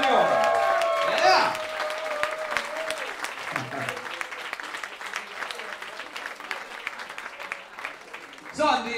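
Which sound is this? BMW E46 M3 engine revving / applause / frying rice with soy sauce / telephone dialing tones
applause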